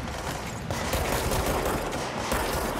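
Rapid bursts of automatic gunfire from enemies in the action game Control, sustained and dense across the whole stretch with no talking over it.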